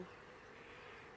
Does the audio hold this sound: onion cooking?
no